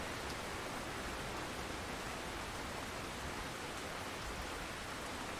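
Steady rain falling at night beside a river in the fishing game Russian Fishing 4, a dense, even hiss of drops that stays constant and fairly close throughout with no other sounds.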